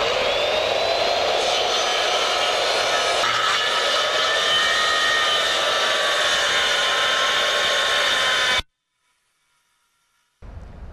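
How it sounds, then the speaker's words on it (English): Power saw ripping along a fascia board, a loud continuous whining cut with shifting pitch for about eight seconds, then abrupt silence before the motor briefly starts again. "and now I'm just going to rip my board."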